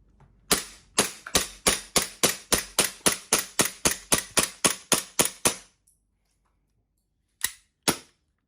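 Double Bell Glock 17 Combat Master Taran Tactical gas blowback BB pistol fires a rapid string of about nineteen sharp, loud cracks in steady rhythm, then stops and fires two more shots after a pause.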